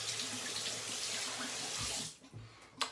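A tap runs steadily into a sink while a shaving brush is wetted, a close, even hiss of water that stops about two seconds in, followed by a few soft knocks.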